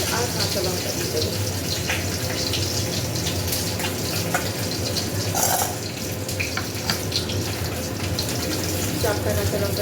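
Water pouring steadily onto washed poppy seeds in a kitchen, a continuous close splashing gush with light clinks, alone with no talking.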